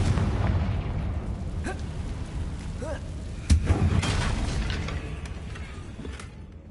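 A Confringo blasting spell detonates in Hogwarts Legacy, a sharp magical explosion amid game effects and music, with a brief louder burst near the middle; a voice speaks over the scene.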